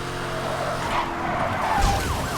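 Car engine in Need for Speed: Hot Pursuit (2010) accelerating hard during a race, with a steady loud roar, rising pitch sweeps and brief tire squeal over constant game noise.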